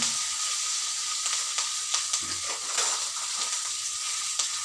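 Mustard seeds, turmeric, chillies and curry leaves sizzle in hot oil in a pan for a moringa leaf recipe, a steady close hiss with small pops and crackles and a few soft stirring clicks.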